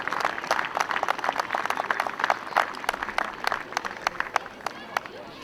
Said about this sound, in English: Round of applause for those boys.